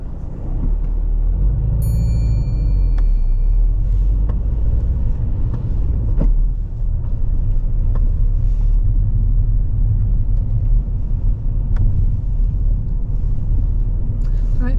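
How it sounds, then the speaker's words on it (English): A car pulls away on a road during a driving lesson, the engine's low rumble steady and close throughout, with occasional soft clicks inside the cabin. "drive off when you're ready."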